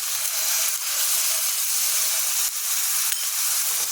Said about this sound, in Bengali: আর দিয়ে দিচ্ছি আদা কাঁচা লঙ্কা বাটা।